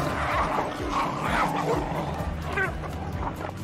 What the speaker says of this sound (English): Two dogs rushed to bite each other.